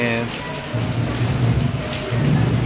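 Steady monsoon rain patters down at Karla village near the Ekvira temple in a constant wash of noise, with a low murmuring voice faintly underneath.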